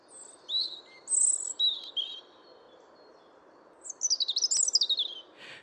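A European robin sings in winter, delivering thin high warbling phrases in two bursts, the second a quicker trilling run, clear against quiet background hiss.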